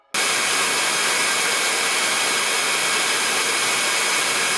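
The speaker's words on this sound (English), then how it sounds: "The most powerful suction level is Turbo, and it is the most noisy, 76 dB." A Dreame T30 cordless vacuum cleaner on its Turbo suction setting switches on and runs at a loud, steady, high-pitched whine that holds level until it cuts off at the end.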